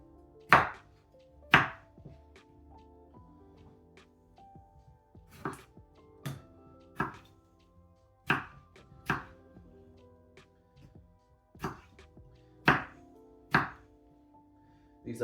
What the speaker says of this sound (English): Tomatoes, nothing crazy. Just cut each one into 6s.